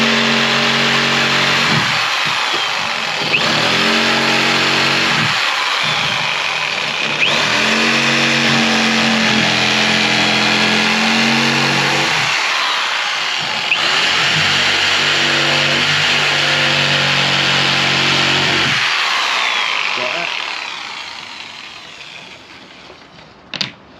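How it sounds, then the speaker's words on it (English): A jigsaw cuts a small bolt hole in a floor panel, its motor buzzing loud and close in several steady bursts with brief pauses between, then winding down to quiet with a final knock. "I'm just going to use my jigsaw to cut this little hole out here"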